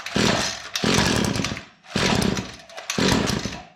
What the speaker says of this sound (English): So let's see how this bad boy runs